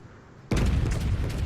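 A heavy naval gun salvo from the battleship Monarch in World of Warships, one sudden loud boom out of near quiet followed by sustained rumbling.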